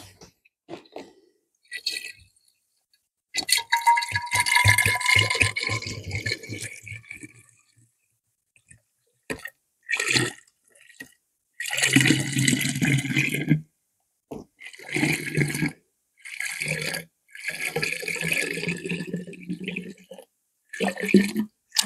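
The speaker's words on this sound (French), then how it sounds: "On va tirer le vin." Homemade walnut wine is drawn off and poured in bursts of gurgling liquid, close, separated by pauses, with a faint voice now and then.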